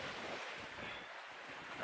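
Wind and waves heard aboard a sailboat sailing out of Allan's Cay in the Exumas, a steady loud rush of wind buffeting the microphone over constant water wash against the hull, with no voices.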